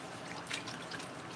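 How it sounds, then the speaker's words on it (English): A tap runs while hands are washed at a sink, a soft trickle with a few drips and splashes, quiet and close. "Just wash my hands"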